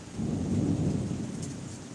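A thunderstorm with rain over Kolkata on a Holi afternoon: a deep, rolling rumble of thunder over a steady wash of falling rain, loud and continuous for a couple of seconds, with no voices.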